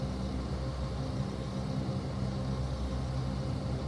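Aircraft engine idling and slowly spooling up in Microsoft Flight Simulator 2024, a steady broadband drone with low hum that holds at a constant, moderate level throughout, no voices.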